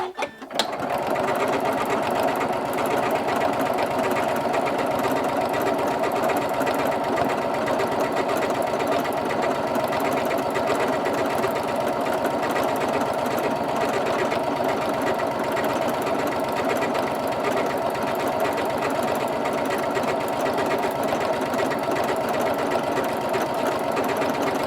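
A sewing machine stitching decorative stitches runs nonstop at a steady fast rhythm, its mechanical whir and rapid needle clatter loud and close throughout.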